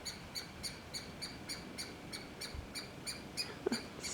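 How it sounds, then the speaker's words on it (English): A bird hidden deep in tree branches and leaves gives a distressed call, repeating sharp, high chirps at a steady quick rhythm, faint and distant over a low background hiss. "Stupid bird."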